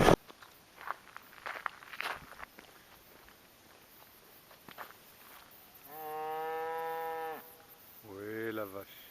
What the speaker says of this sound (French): Oui, la vache.